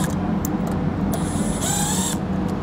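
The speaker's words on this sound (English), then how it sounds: "We're using a T15 Torx bit to get this done." A T15 Torx bit on a power driver backs out screws from the front grill of a 2022 Chevrolet Colorado, with brief whirring bursts and a half-second sustained whine over steady background hum.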